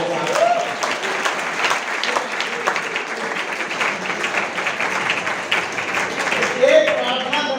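Audience applause at a Hindi comedy show, a steady wash of clapping from a crowd that holds for several seconds, with a couple of faint whistles rising through it.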